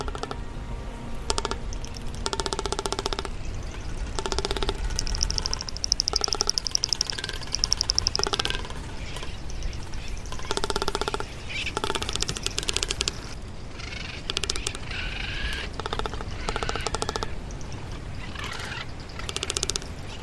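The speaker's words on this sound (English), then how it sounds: "Now here's a sample of the male's mating call, courtesy of the Cornell Lab of Ornithology." A male marine bird's mating call: a rapid, clattering series of raspy knocking calls repeats in bursts, rattling and mechanical-sounding, with occasional higher whistled tones, fairly faint.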